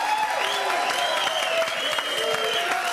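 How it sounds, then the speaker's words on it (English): Studio audience applause for contestant Lori on a dating game show, a steady bed of clapping, while a voice with rising and falling tones carries over it. "Give Lori a nice round of applause."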